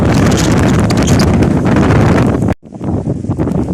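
Stormy wind gusts through peach trees in an orchard, roaring loudly into the microphone as buffeting wind noise, then cutting off abruptly before returning as a weaker rustle.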